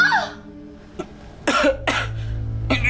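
A person coughs in several harsh, separate bursts close up, with a short throat-clearing sound between them and a low background hum.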